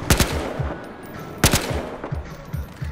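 Gunfire in a PS4 video game: two sharp bursts of rapid shots about a second and a half apart, followed by scattered fainter pops.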